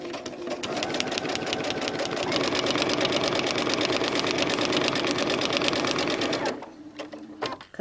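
A sewing machine runs fast and steadily while stitching quilt pieces along a marked dotted line, its needle chattering in an even mechanical rhythm for several seconds before stopping abruptly.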